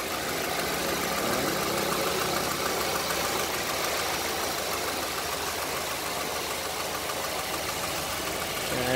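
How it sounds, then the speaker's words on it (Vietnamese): A 2009 Daewoo Gentra car with its original, unrebuilt engine idles in a close, steady, even hum with a faint rhythmic knock underneath, running on its own without speech. "Máy nổ rất êm đúng không?"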